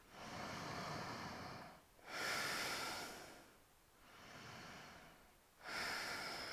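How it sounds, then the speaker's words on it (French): Slow, audible Ujjayi breaths during a yoga practice for the belly, three long hissing exhales and inhales rising and fading in a steady rhythm, close and quiet with no talk. "revenez à la respiration Ujjayi"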